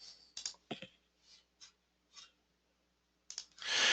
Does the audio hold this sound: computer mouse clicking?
yes